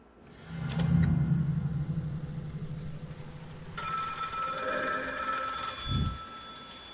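A telephone rings in a VRChat horror world, a loud electric bell-like ring that repeats and swells, ending in a few low bumps.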